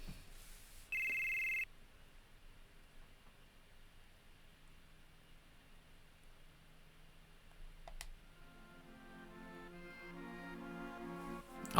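A telephone rings once in the Final Fantasy VII video game, a short bright electronic trill that cuts off quickly, followed by quiet ambience and soft game music rising later.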